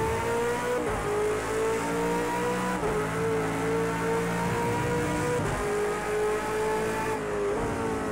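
A V8 Supercar engine in Project CARS 2 at Circuit of the Americas, revving hard and steady with gear changes and pitch shifts across several seconds, close and continuous with no voices.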